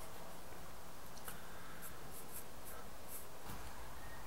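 A marker or scribe scratches along sheet metal while a template outline is traced, giving a soft continuous scraping with a few brief sharper strokes.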